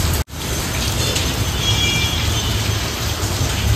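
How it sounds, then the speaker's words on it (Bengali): Heavy rain pouring down on an evening with thick dark clouds overhead, a dense, steady broadband hiss that fills the whole clip after a brief dropout at the start, with no talking. "মুষলধারে বৃষ্টি হচ্ছে।"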